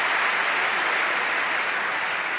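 Sustained applause from a table tennis crowd at the 2017 World Championships, steady and dense across the whole stretch with no talk on top.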